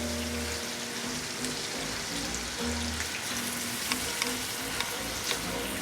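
A large Vidalia onion and four big garlic cloves fry in melted butter, giving a dense, steady crackling sizzle with scattered pops, close and loud with no voices.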